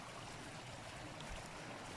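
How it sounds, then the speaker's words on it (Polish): A fast-flowing mountain stream in the Owl Mountains near Bielawa rushes steadily, a dense, continuous close-by water roar filling the whole clip without pause. "Woda spada dość wartko, także szum strumyka jest taki dość intensywny"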